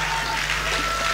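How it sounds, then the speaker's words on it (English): A crowd at a Pacific Island culture night claps in a brief, dense burst of applause, loud and continuous with a low hum beneath. "So give your God a big clap from you today"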